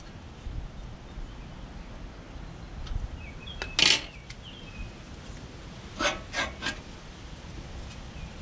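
Reel lawnmower blade spun against its bed knife, giving a few brief close whirring rasps: one near four seconds, then three quick ones around six to seven seconds, over a quiet background.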